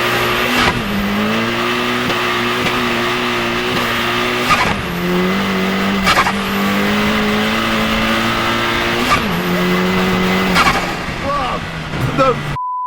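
A 450 hp VW Caddy van with an S3 engine swap and a tune pulls hard in second gear, loud turbo engine note climbing steadily with brief dips at gear changes or lifts, and a voice talking over it.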